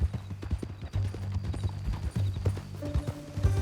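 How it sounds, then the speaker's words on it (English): Horse hooves clip-clop in the Red Dead Redemption II video game, a steady, close rhythm of hoof strikes on ground continuing throughout, with faint game sounds underneath. "That a new horse?"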